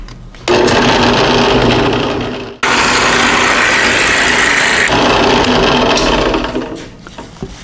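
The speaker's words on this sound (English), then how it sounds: "I think I can go just a little more, and then we'll be ready for the planer." A thickness planer flattens rough lumber for guitar building in two loud, continuous passes of whining, roaring cutting. A sharp break falls between the passes and the motor winds down at the end.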